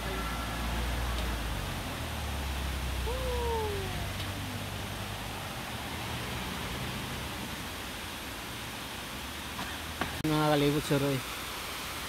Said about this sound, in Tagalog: Yun po, man-made waterfalls dito sa South Korea.